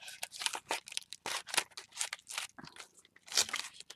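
Masking tape torn and pulled off in short, crackly rips, a quick uneven series of close, dry snaps and crinkles with no voices.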